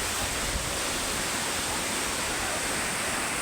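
Waterfall near Pokhara, Nepal, a steady broad rushing roar of falling water, constant and fairly close with no voices.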